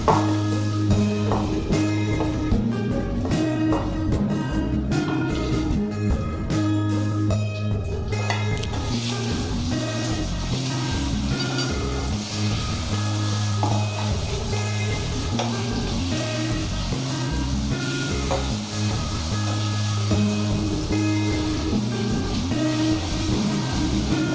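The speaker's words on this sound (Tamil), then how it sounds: "இந்த அரைச்ச விழுதையும் போட்டு நல்லா வதக்கிக்கலாம்." A ground spice paste with curry leaves sautéing in a pan for pepper kuzhambu, frying with a loud, steady sizzle and crackle that continues throughout, heard alone without talk.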